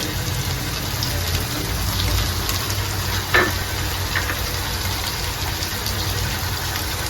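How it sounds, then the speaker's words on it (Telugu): Garlic, tomato pieces and curry leaves fry in hot oil for mango dal, giving a steady close sizzle throughout with one brief clatter of stirring midway. "కరివేపాకు వేసి వాటితో వేయించుకోవాలి"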